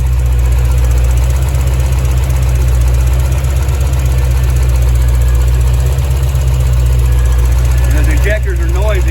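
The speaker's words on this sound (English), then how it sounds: "And those injectors are noisy, you can hear them" Freshly started Paxton-supercharged ZZ3 5.7 V8 in a C4 Corvette, with large Bosch injectors, runs loud and close with a steady rumble and a busy mechanical ticking over the top; voices talk near the end.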